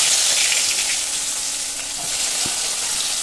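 Chopped onion with black cumin sizzles loudly and continuously in hot oil, with faint stirring scrapes and one soft knock partway through, heard up close without speech.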